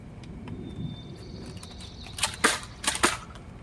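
A Nerf Split Strike blaster fires foam darts: a few sharp, snappy pops in quick pairs near the end, with a quieter background before them and no talking.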